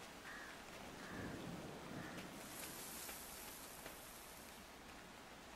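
Steady rain falls in the video game Endling: Extinction is Forever, a dense, even hiss at moderate level that runs throughout, with no talking.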